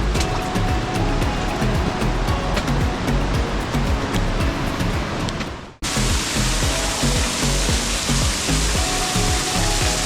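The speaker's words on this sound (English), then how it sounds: "Let's come through the waterfall." Water pours in a steady, loud roar inside a cave in the Blue Mountains, a dense continuous rush that dips for a moment midway before surging back just as strongly.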